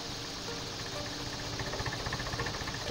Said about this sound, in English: I love the sound of that tractor.